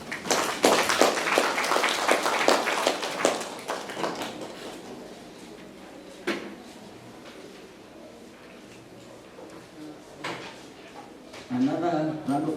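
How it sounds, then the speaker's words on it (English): Audience at a digital innovation and sustainability workshop applauding after a keynote address, with dense clapping for the first few seconds that thins to scattered claps and fades out, followed by a voice speaking. "Another round of applause for Mr."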